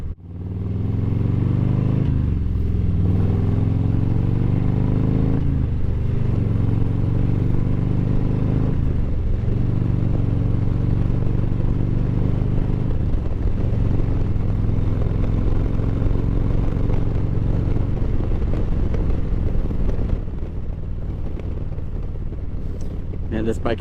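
A Harley-Davidson Low Rider ST motorcycle being ridden, its engine a loud, steady low rumble with wind roar and several rising and falling throttle swells over a long stretch, a rider speaking over it.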